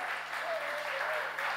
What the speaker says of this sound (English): Ladies and gentlemen, big round of applause for Sushan Sriram